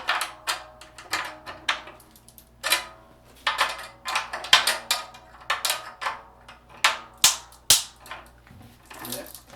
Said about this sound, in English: you'll hear some cracking and popping, that's okay.